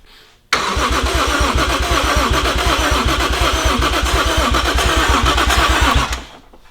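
A Toyota 1JZ engine cranks hard and close, with a fast, even chugging of the starter under a loud, steady roar that lasts several seconds before cutting off without catching clearly.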